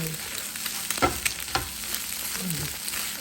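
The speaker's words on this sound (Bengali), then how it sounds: "এখন ডিমটা ভাজি করব" An egg fries in a pan on a home stove, a steady sizzling hiss punctuated by a couple of sharp clinks and scrapes from a spatula; no talking.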